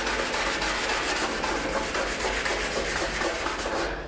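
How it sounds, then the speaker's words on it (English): New stainless steel wire brush scrubbing the body seam of a 1971 Barracuda under restoration, a steady close rasping scrape continuing throughout with no talk. "we're gonna go take a brand new stainless steel brush, and we're gonna just go over this area"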